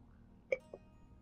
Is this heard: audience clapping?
no